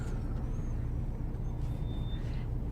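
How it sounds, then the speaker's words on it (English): Dense downtown Atlanta street traffic near Georgia Tech, cars and trucks rumbling steadily with a constant low roar, a brief whistling whine and a short high tone rising over it, no talking. "Sorry, but I'm perplexed with this traffic."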